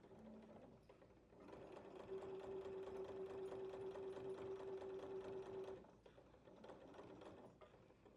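A sewing machine stitches a 5/8-inch seam along a basting line on gathered watermelon-print fabric: a quiet, steady whirring run of rapid stitching for several seconds, a short pause, then stitching again.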